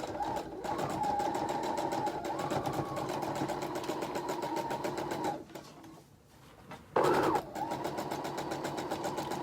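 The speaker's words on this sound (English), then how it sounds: "I'm just going to keep going and sew over the lining part of it some." A sewing machine stitches over the lining of a faux fur leg warmer, a rapid rhythmic whir that runs steadily, pauses briefly near the end, then resumes.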